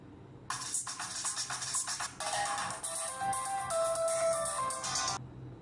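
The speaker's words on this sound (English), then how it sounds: "Then we have the available ringtones for the same." A cheerful electronic ringtone melody plays from the small speaker of an Ojoy A1 kids' smartwatch, loud and close, repeating a bright chiming tune for several seconds before stopping.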